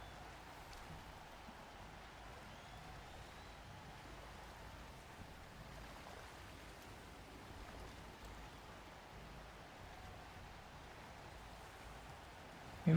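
Rain falls during a fantasy football video game match between black orcs and dwarves, a steady, even hiss that continues unchanged throughout at low to moderate level.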